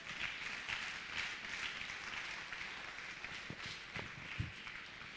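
A church congregation applauds in praise during a sermon, a faint, steady wash of many hands clapping from a distance, with no voices over it.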